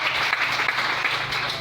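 A church congregation applauds in a dense, continuous patter of clapping that holds steady across a brief moment, with no talk over it.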